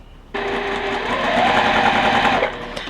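Sewing machine stitching quilt fabric pieces for a criss-cross star quilt block, a steady fast continuous whir that starts abruptly, rises slightly in pitch mid-run, then slows and stops, close and loud with no talking.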